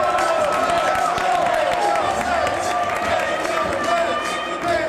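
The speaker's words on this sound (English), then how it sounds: "The crowd on their feet." Live pro wrestling crowd cheering and clapping, a dense continuous roar of voices with scattered claps throughout, loud and steady as the main event begins.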